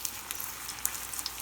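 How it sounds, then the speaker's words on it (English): Ajwain leaves in batter deep-frying briefly in hot oil, a soft, steady high sizzle with scattered small pops and crackles across the whole stretch, fairly quiet and close. "I'm going to quickly fry this for a couple of seconds and then remove it."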